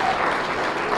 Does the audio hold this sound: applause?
yes